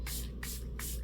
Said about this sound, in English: And now I'm going into my Ucanbe Lasting Chamomile Spray,